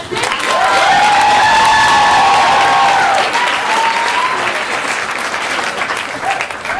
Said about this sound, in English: tailor your applause to the ideas of David Schwartz